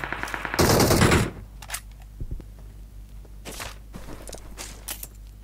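Video game gunfire: a quick automatic burst, then a heavy loud blast, followed by scattered single shots and clicks, near and prominent with little talk.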